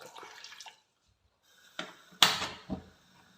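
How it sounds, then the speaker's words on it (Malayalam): Water poured into a bowl of cut pumpkin pieces, a few short splashing bursts after a quiet pause, close and fairly soft, with light handling clatter. "ഇതിലേക്ക് അല്പം വെള്ളം ഒഴിച്ചു കൊടുക്കാം."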